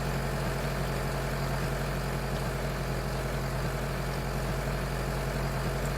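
A Ford tractor engine idles steadily in Farming Simulator 2013, a constant low rumble that holds at an even level throughout with no talking.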